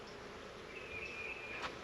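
Agitated honey bees buzz around an opened hive box, a low, continuous drone with a thin higher whine passing through and a short knock near the end.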